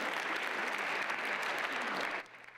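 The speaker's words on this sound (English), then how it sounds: "Students at Eagleview High School applaud the success of one of their own." High school students at Eagleview High School clapping together in a steady, dense burst of applause that fills the room, then cuts off abruptly near the end.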